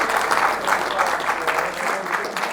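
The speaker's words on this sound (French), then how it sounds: "On peut l'applaudir même s'il n'est pas là." Applause at an amateur football club's trophy ceremony, a steady round of clapping from a small crowd, close and moderately loud, continuing evenly without voices on top.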